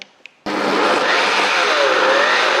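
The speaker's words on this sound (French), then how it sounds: "Vous refermez le couvercle du blender et là, avec la fonction Pulse, vous allez venir mixer quelques secondes." A Ninja Foodi Max blender on pulse chops stale bread stuffing for a chicken after a couple of faint knocks, starting abruptly and roaring loud and steady at close range.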